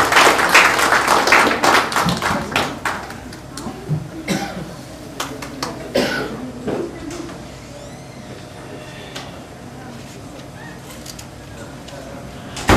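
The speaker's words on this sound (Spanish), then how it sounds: "démosle un aplauso al hermano" Church congregation applauding a preacher, with dense clapping in the first six seconds that thins into scattered claps, coughs and room noise.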